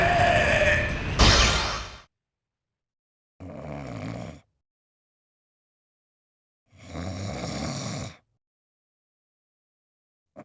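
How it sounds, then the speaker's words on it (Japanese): Snoring in the video game Galaxy Angel II: three separate rasping, grunting snores, each lasting one to two seconds with silent gaps between, following a short burst of other game sound at the start. "いびきがうるさくてかなわんぞ。"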